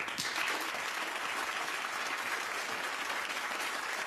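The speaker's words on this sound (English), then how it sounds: "Give them a round of applause." Sustained applause from a TV studio audience on a daytime talk show, a steady dense wash of clapping lasting several seconds with no talk over it.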